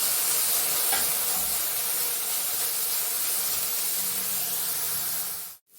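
Grated carrot, green chilli and green peas fry in a pan with a steady, fairly loud hiss and sizzle that holds almost to the end and then cuts off abruptly.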